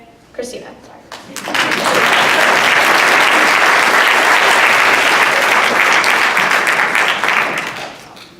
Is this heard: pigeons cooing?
no